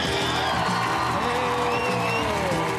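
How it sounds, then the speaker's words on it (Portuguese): A studio crowd on a Brazilian television show claps and cheers loudly and continuously, with whoops rising over dense applause. "capricha no aplauso"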